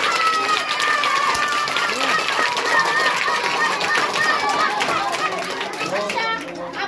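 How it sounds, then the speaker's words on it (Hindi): A crowd of children in a village gathering claps steadily and enthusiastically. Lively chatter and shouts run through the applause, which stays loud throughout. "जोरदार तालियां बजाइए भैया।"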